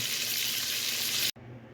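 Steady, bright sizzling of bacon frying in a pan, close up, cut off abruptly near the end and followed by quieter sizzle.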